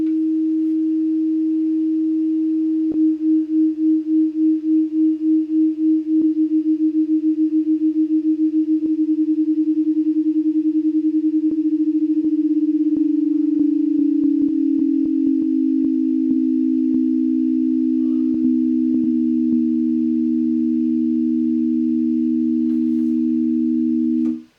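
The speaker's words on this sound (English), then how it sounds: "It's just two sine waves starting off at the same pitch, with one of them gradually lowering." Two synthesized sine tones begin on the same pitch; one slowly glides downward while the other holds, producing a long, steady electronic drone with gradually slowing beating and a few faint clicks.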